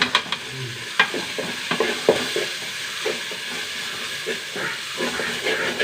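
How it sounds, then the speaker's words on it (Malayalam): Ginger, garlic, onion and tomato sautéing in a pan, with a continuous hissing sizzle broken by frequent stirring scrapes and clinks, close and fairly loud. "ഇഞ്ചി വെളുത്തുള്ളി ഉള്ളി തക്കാളി ഒക്കെ വഴണ്ട് വന്നൂട്ടാ"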